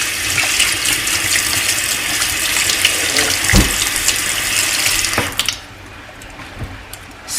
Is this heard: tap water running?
yes